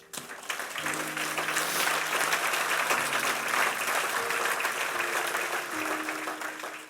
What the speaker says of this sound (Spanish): Y le debes dar un aplauso al Señor